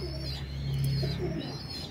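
A pigeon gives a low, soft cooing call, close by, with faint chirps and background noise around it.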